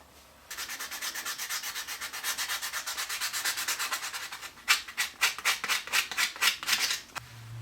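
Hand sanding a walnut bar with sandpaper, close and alone: a fast run of rhythmic rasping strokes followed by slower, firmer separate strokes.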